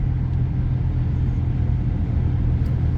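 Continuous low engine rumble from inside a car driving on the road alongside a truck, steady and moderately loud with no talking.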